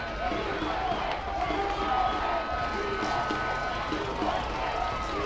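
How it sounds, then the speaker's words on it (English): At a 12U baseball gold medal game between USA and Mexico, a crowd cheers steadily at moderate distance after a home run, with a commentator's voice running over the noise. "Listen to that crowd."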